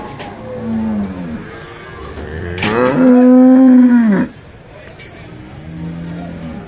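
A spotted cow at a busy cattle market lets out several loud, drawn-out moos close by, the longest in the middle, with a lower moo at the start and end.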